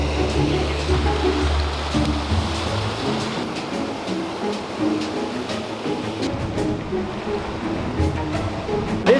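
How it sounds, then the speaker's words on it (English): A hot spring river in Beppu, Japan, flows steadily with a continuous rushing, splashing wash, fairly loud and close, with no voices over it. "This is the onsen like river."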